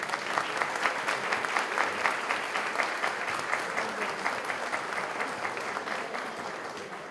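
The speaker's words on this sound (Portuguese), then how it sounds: "Peço aos nossos mais novos associados mais uma calorosa salva de palmas." Warm applause from guests at an institute's formal dinner welcoming new members, a steady dense patter of many hands clapping at moderate level that thins slightly toward the end.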